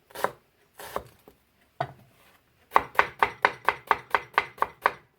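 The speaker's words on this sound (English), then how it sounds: "very fine cutting across the slices that I keep for my stock" A knife finely chops onions on a cutting board: a few scattered strikes, then a fast steady run of about a dozen crisp, close taps.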